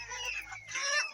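A chicken clucks in a few short, close bursts with a brief pause between them, and there is no talking.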